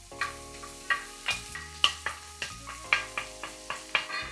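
Carrots and green onion stir-fry in a pan for Japanese fried rice, a steady sizzle broken by regular sharp clinks and scrapes of a utensil tossing the food, close and distinct.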